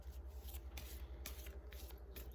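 A deck of tarot cards is shuffled by hand, giving soft, repeated riffling and sliding bursts that stay faint and close throughout, with no voices.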